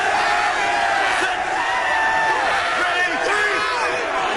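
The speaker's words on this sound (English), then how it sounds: "It doesn't take a whole lot to get a New York crowd excited." A New York stadium crowd at a 2001 XFL football game between the Orlando Rage and NY/NJ Hitmen roars and cheers in a loud, continuous wash, with yells and whoops rising through it.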